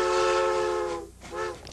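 Southern Pacific No. 2353 steam locomotive at the San Diego Railroad Museum in Campo sounds two loud whistle blasts, a long sustained chord followed by a shorter one after a brief gap.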